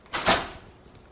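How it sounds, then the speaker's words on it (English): The main door of a slot machine (electronic gaming machine) swings shut after a power supply replacement, giving a sharp double thump and rattle, close by, that fades into quiet. "and close the main door."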